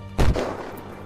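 A single sharp gunshot from the video game Unturned, loud and close, cracking out after a moment of quiet and leaving a short ringing tail.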